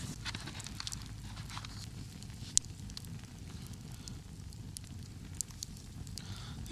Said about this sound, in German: am Lagerfeuer.